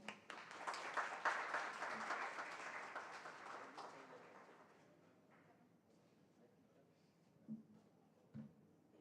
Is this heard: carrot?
no